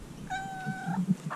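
A cat meows on a dock beside a trawler at night in Valdez, Alaska, giving one drawn-out, clear call of about a second, with faint background noise and a short squeak afterward.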